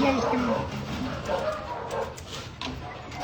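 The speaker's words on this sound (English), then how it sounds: "Beautiful Doberman." A rescued Doberman lets out soft whines and short yips close by, rising and falling through the scene while a person talks over it.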